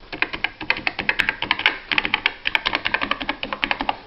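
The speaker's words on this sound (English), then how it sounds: "let's pause this one and listen to the keyboard" Typing on the keyboard of a Quen-Data Executive 80 electronic typewriter, a loud, close, rapid run of sharp plastic key clicks in an uneven rhythm with no talking.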